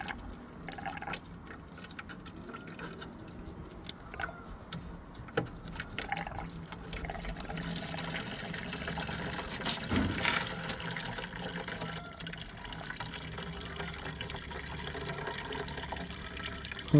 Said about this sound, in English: just got to drain the fuel out the fuel bowl